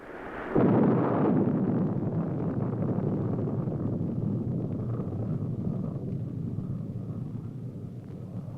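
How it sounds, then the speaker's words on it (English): Solid fuel Polaris rocket motor launched from a submerged submarine, an abrupt loud blast that settles into a long rumbling roar, slowly fading, on an old film soundtrack. "The Aerojet General Corporation developed and is producing the solid fuel motors for Polaris, shown here now being fired from the submerged submarine."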